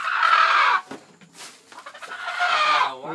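Native chicken clucking close by in loud, rapid bursts, with a quieter gap in the middle before another rising run of clucks.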